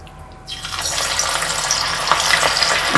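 Prawns dropped into hot oil and frying, a steady bright sizzle that starts abruptly after a quiet moment and keeps going, with small pops and spits throughout and no talking.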